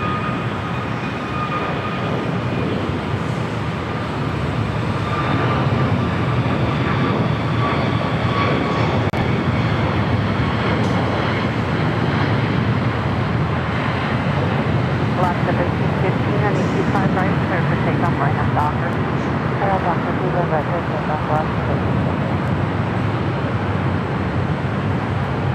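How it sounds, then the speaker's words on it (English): An Airbus A320 bound for SFO takes off at LAX, a loud, steady roar of jet engines that holds for the whole stretch, with a person talking over it. "2836, heading to SFO. It's an A320."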